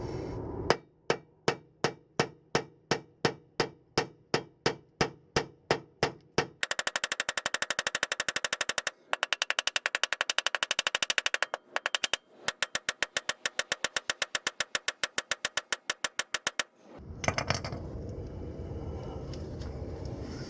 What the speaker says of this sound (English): I'm using a regular hammer, good old Harbor Freight hammer here.